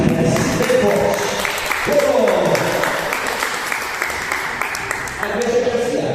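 A church congregation claps loudly for Jesus during a family worship service, a dense, sustained wash of applause running throughout, with voices mixed in over the clapping.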